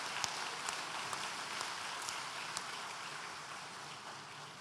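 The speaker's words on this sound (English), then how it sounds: "A round of applause." Steady, faint applause from a graduation ceremony audience, a soft continuous patter with a few louder single claps, heard from a distance with no voices over it.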